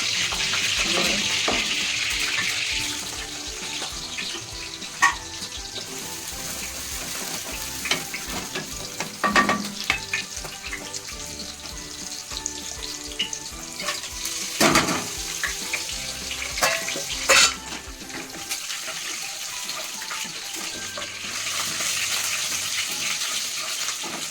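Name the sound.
chicken frying in oil with masala for biryani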